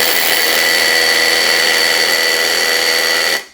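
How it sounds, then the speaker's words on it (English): A Festool TID 18 impact driver drilling steadily in hammer mode with a dense, harsh high-pitched whine and rapid hammering buzz, loud and continuous, cutting off abruptly near the end. "I'm going to put it in hammer mode. Watch, it's a whole different feel."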